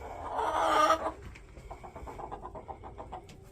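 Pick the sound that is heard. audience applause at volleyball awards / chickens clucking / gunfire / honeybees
chickens clucking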